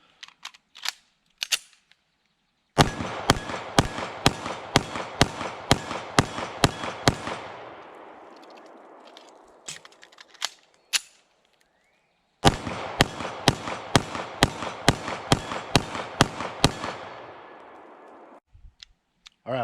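A Browning Hi-Power 9mm pistol fires at targets in two rapid strings of sharp, loud cracks, each string of about ten shots followed by fading echo, with a few scattered earlier shots and no talk.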